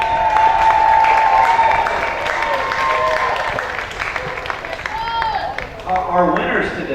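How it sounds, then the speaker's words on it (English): Crowd applause at a polo match, a broad wash of clapping that starts loud and slowly thins over several seconds, with a voice carried over a loudspeaker running through it. "everybody clapped anyway"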